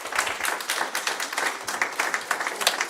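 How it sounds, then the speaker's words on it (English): A short burst of clapping from the audience at a city council meeting, brisk, moderately loud hand claps in a room, continuing throughout without any voices over them. "we can't have clapping"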